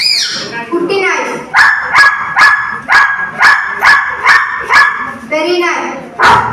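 A person imitates a puppy with a run of about ten short, high yips and barks in an even, quick rhythm, loud and close, with a few whiny, whimpering notes at the start and end.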